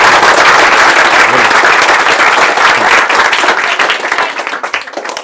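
Loud, dense applause from a large crowd fills the space, steady at first and then thinning out into scattered claps near the end.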